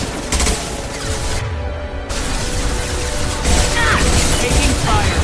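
Gunfire rattles steadily through a firefight in the video game Mass Effect 2, with loud bursts and impacts running almost continuously, briefly dropping out before resuming heavier.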